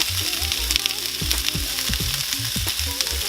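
Potatoes frying in a pan with garlic, a close steady sizzle with a few clinks and scrapes from the pan, no talk.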